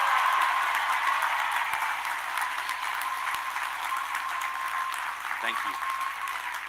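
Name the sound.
audience applause for award recipients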